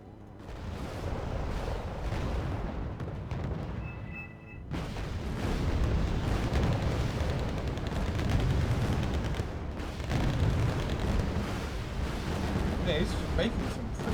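Artillery supporting fire in the strategy game Wargame Red Dragon, with T-64 tanks nearby, rumbles as a continuous layer of low booms and blasts beneath a voice.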